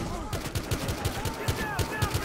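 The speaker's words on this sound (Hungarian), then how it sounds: "te meg ne lövöldöz úgy össze-vissza" Rapid gunfire from the video game Battlefield Hardline, a steady rattle of repeated shots like an automatic weapon, loud and continuous, with a voice faintly present underneath.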